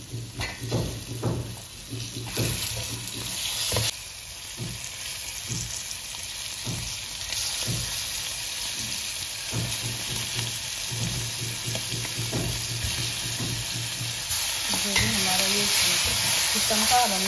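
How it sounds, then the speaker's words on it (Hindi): Chicken sizzles steadily in a hot pan for chicken biryani, a continuous close frying hiss with occasional stirring scrapes and bursts, running alone without talk. "तो इसमें हम ऐड करेंगे अब चिकन।"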